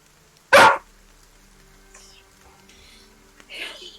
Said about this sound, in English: Someone deal with this dog!